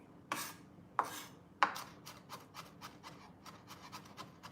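A knife chopping on a cutting board, three sharp strokes followed by a faster, softer run of rhythmic chops and scrapes, close up.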